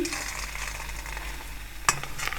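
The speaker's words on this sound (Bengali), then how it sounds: "আমি যে বলটা এর মধ্যে ছেড়েছিলাম এটা কিন্তু খুলে যাচ্ছে না খুব সুন্দরভাবে এটা ভাজা হচ্ছে" A rohu fish kofta ball fries in hot oil with a steady close crackling sizzle, and a sharp metallic clink cuts in near the end, with no voices.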